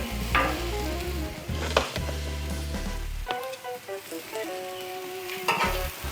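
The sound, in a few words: pumpernickel bread sizzling in butter on Blackstone griddle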